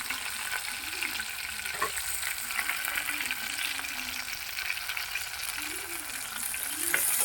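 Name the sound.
tomatoes frying in oil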